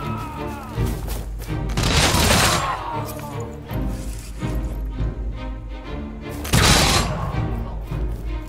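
Musketmen firing volleys in the Humankind strategy game, with loud bursts of massed gunfire near the start and again near the end, plus overlapping crackling shots and battle clatter throughout.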